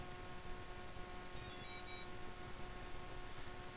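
Beeping tones from a CC3D flight controller on a tri-copter right after the battery is connected, a short cluster of bright electronic beeps over a steady low hum.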